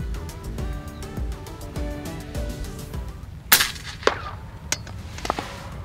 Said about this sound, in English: you can hear these pop a lot louder. These are 34 grain slugs